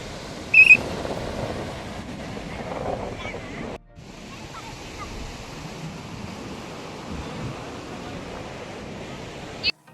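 Sea waves surge onto a beach near Mangalore in the run-up to the rainy season, a steady broadband wash of surf and wind that fills the whole stretch, with a brief sharp burst near the start and a short dip midway.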